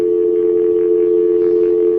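Telephone line during a call-back on a radio show: a steady, loud dial tone holds unbroken for a couple of seconds.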